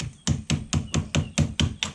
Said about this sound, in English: I'm almost done, and I get the lighter hammer.